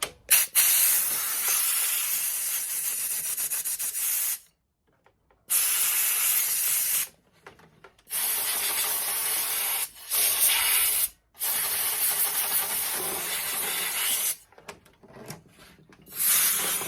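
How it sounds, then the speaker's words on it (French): A compressed-air blower gun blasts dust out of a dirty PS4 cooling fan in long, loud, steady hissing bursts. Each burst breaks off into brief silences before starting again, and no one speaks. "Je vais mettre un gros coup de soufflette."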